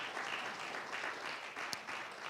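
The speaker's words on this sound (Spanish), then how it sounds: "Un aplauso para el Señor." A church congregation applauds during a Spanish-language service, a steady, fairly faint wash of many hands clapping from a distance, with rhythmic swells throughout.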